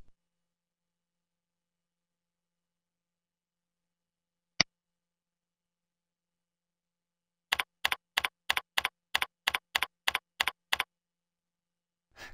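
Keys on a computer keyboard typing in a username and password: one isolated click, then a quick, even run of about a dozen crisp keystrokes, close and fairly quiet against silence.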